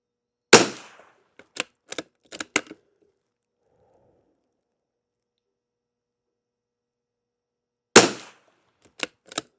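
Subsonic CCI rounds are fired in two short groups, a sharp crack followed by several quick shots, then silence and another burst of reports, close and loud with no voices.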